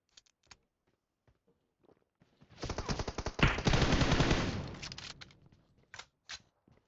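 Automatic gunfire in PUBG Mobile, with a few isolated shots at first, then a dense burst of rapid fire for about two seconds that tails off into scattered single shots.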